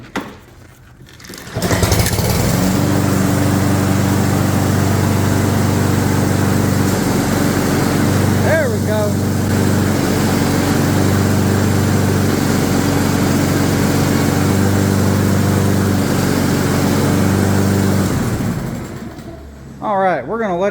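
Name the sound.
Husqvarna AWD self-propelled lawn mower engine running, driving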